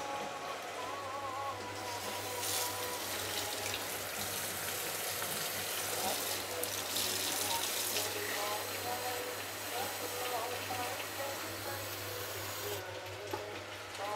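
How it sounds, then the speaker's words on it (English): Water pours into a cooking pot for Thai chicken massaman curry, a soft continuous splashing and hiss over a steady low electrical hum, with brief louder bursts of rushing water. "Now we're gonna add some water"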